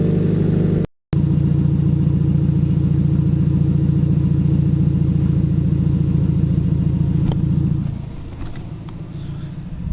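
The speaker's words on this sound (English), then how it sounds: "It does idle a little bit louder" A Subaru STI fitted with new equal-length headers idles steadily with a loud, low, even burble, close and continuous, briefly cut out near the start and dropping lower and quieter toward the end.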